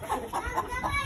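A hen clucks in a quick series of about four soft, evenly spaced calls, close by and fairly quiet.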